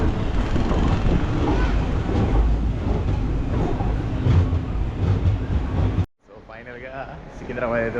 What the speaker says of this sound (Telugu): ఫైనల్గా 6 o'clock వచ్చిందండి ట్రైన్